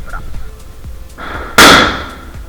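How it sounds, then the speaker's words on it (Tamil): A Diwali firecracker goes off with one sharp, loud crack partway through, its noise tailing off over the next half second, above a busy outdoor background of distant pops and clatter. "இப்போ வந்து என் அக்கா வந்து பட்டாசு அடிக்க போறா"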